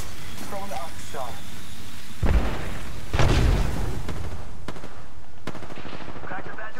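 An arc star grenade goes off in Apex Legends with two heavy broadband bursts mid-clip, mixed with gunfire and crackling impacts, while a voice calls out over the action.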